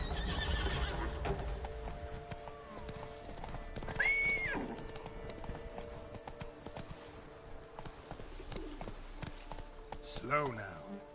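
Roach the horse from The Witcher 3 neighs loudly and runs with clip-clopping hooves amid game ambience and a fight's clatter, with a voice speaking over it; a second whinny rises near the end.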